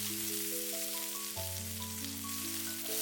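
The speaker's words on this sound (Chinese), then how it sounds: "油熱之後，下入準備好的薑片、小米椒，小火煸炒出輔料的香味和辣味" Ginger slices and small chili peppers frying in hot oil over low heat in a wok give a soft, steady sizzle that runs beneath gentle background music.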